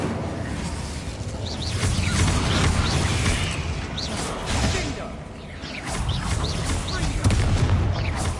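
Spell-casting effects from the Hogwarts Legacy video game, an Incendio fire spell amid combat with whooshes, booms and crackling blasts layered over a dense, continuous battle soundscape.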